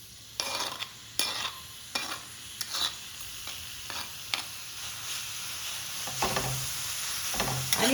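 Grated pumpkin sautéed in a spoonful of ghee in a hot pan, with a steady close sizzle and repeated scraping stirs of a spatula at a loose rhythm, no voices.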